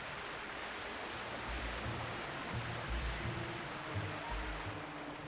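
Rushing river rapids in the video game Twilight Princess, a steady broad roar of churning water with low rumbling surges throughout.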